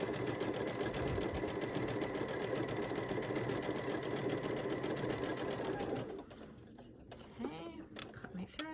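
A sewing machine running a blind hem stitch with a blind hem foot, a fast steady mechanical whir close up for about six seconds, then stopping, followed by faint handling clicks.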